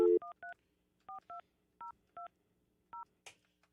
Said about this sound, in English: Hang on, let me get Stanley on the phone